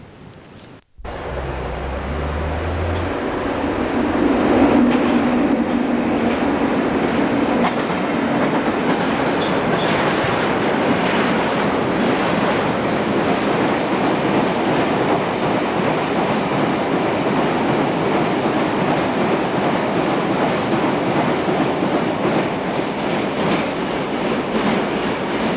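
A British Rail freight train of empty wagons running from Longbridge to Swindon in the 1990s West Midlands rumbles past close by, loud and steady, with rhythmic wheel clatter and some squealing.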